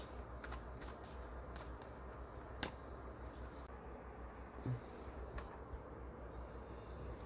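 Tarot cards being shuffled by hand, with quiet, close riffling and flicking in irregular bursts, plus a few sharp taps, over a low, steady background hum.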